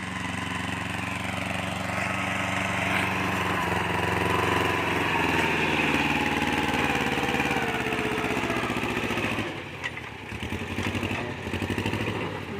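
A walk-behind farm tractor fitted with a grass-cutting attachment runs its small engine steadily and loudly nearby, a continuous throbbing drone with a slight dip and clatter near the end.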